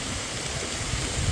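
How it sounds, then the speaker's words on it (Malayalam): A small forest waterfall in Kothayar pours steadily, a dense continuous rushing wash of water heard close and even throughout. "ഇതാണ് വെള്ളച്ചാട്ടം."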